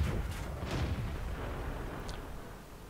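Deep booming tank cannon shots in a tank video game, two heavy reports close together early on followed by a rumbling tail and a distant crack, with no talk over them.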